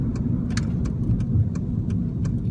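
A 2010 Honda Civic Si fitted with a DC Sports short ram intake, heard from inside the car as a steady, loud low engine drone with faint light rattles and no talk.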